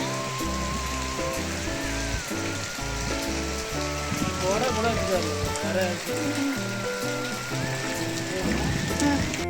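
Heavy rain pours steadily and loudly throughout. A constant dense hiss of drops drums on surfaces, and low rumbling and other background sounds sit beneath it.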